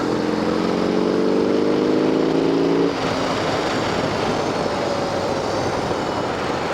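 A BMW R18 cruiser motorcycle, a big-torque boxer twin, pulls hard under steady loud engine drone with layered harmonic tones that break off near three seconds as a gear engages, then continues as rougher wind-blown engine noise.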